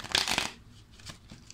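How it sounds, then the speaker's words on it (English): A new, stiff tarot card deck is shuffled by hand, a brisk riffling burst of card flutter followed by a couple of softer shuffling rustles, close and alone. "I'm going to cheat a little bit just to see the deck when I shuffle."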